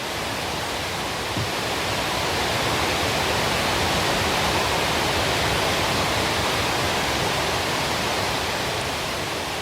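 Steady, dense roar of Niagara Falls, a massive waterfall, pouring without pause, loud and continuous like close-range broadband rushing water, with no voices.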